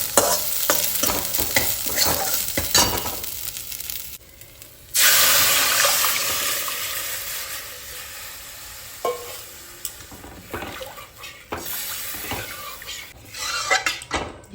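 Dal bubbles and simmers in a kadai (wok) on the stove while being stirred, with steady sizzling texture and occasional utensil clinks against the pan, louder in bursts and easing off between stirs.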